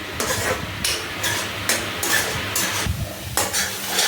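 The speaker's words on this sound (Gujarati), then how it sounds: "હવે એને મિક્સ કરી લેવાનું છે" Motichoor ladoo mixture is stirred and mixed in a pan, heard as brisk, rhythmic scraping strokes of a spoon against the metal every half second or so, close and loud over a faint sizzle.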